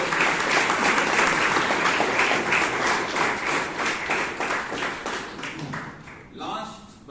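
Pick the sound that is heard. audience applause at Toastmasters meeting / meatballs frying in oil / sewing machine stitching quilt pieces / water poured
audience applause at Toastmasters meeting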